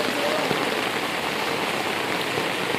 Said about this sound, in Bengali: যদি অফিসে যাওয়ার সময় এরকম বৃষ্টি হয়